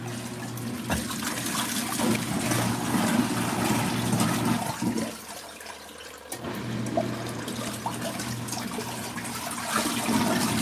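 Water rushes and splashes inside an LG ThinQ MEGA Ultimate washing machine during a five-minute rinse cycle, a continuous churning wash with a low hum that briefly dips midway before resuming.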